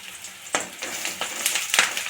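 Onion with a few peppercorns and a sprig of curry leaves frying in a pan, a steady close sizzle broken by a few louder crackling bursts as the leaves hit the oil.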